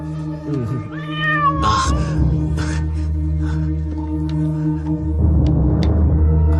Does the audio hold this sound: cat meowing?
yes